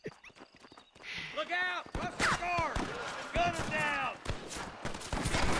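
Gunfire in a shootout in the video game Red Dead Redemption: a few sharp, scattered shots ring out over a horse's hoofbeats and snorts, with someone talking throughout.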